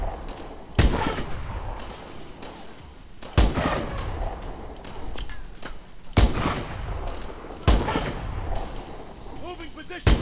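Gunfire in the Call of Duty: Advanced Warfare campaign mission Crash, with four loud sharp shot bursts spaced a few seconds apart over continuous battle noise while a voice talks throughout.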